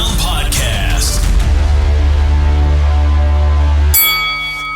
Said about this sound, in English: Touching gloves at the bell, Mike.